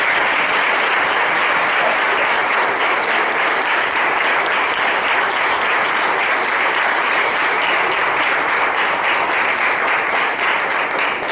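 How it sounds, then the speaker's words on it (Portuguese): A church congregation claps in praise during a service, a dense sustained wall of applause from many hands that holds steady and loud throughout. "Eu vou convidar você, toda a igreja, a louvar ao Senhor com palmas."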